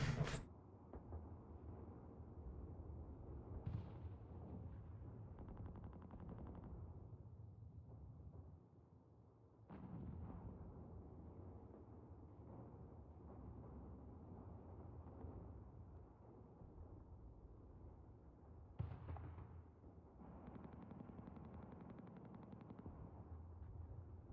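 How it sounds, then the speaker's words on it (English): Grenade blasts in the Company of Heroes 3 strategy game: a few sharp explosive cracks break through a constant dense rumble of battle noise and gunfire, loud and continuous. "Oh, grenade spam."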